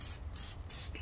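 CarPro Hydro 2 spray-and-rinse sealant is misted from a trigger spray bottle onto a car wheel in three quick, close hissing bursts in rapid succession.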